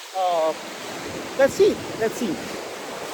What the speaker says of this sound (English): I hope you were able to hear me despite the waves and wind